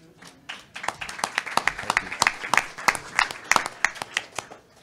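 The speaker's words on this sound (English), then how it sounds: "Folks, let's give a round of applause." Audience applause at a symposium panel: a crowd clapping in a steady, dense patter of hand claps that builds and stays lively throughout, fairly close and without talk.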